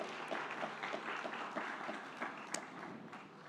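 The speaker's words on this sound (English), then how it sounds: "A round of applause," An audience at an awards ceremony applauds the jury: a faint, steady patter of many hands clapping, continuous and diffuse, heard at a distance.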